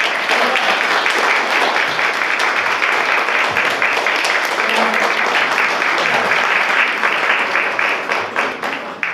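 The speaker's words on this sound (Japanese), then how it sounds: "水野選手、鈴木選手に大きな拍手をお願いします" Loud, sustained applause from a crowd at an amateur fight event in Ishikawa, honouring two veteran fighters after their bout: dense clapping that holds steady, then thins slightly near the end.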